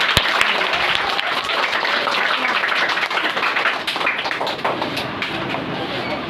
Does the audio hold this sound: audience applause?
yes